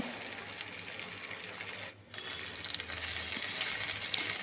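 Okra (bhindi) frying over medium heat gives a continuous crackling sizzle with a brief dip near the middle before the steady spatter resumes.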